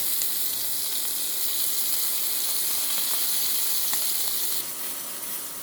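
Bream pieces fry in a pan, a steady bright sizzle and crackle holding evenly close by, easing slightly softer near the end.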